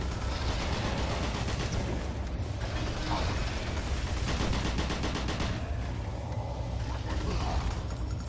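Zombie gunners firing in Doom 3, heard as a dense, continuous wash of rapid game gunfire and mechanical clatter lasting throughout, loud and unbroken with no pauses.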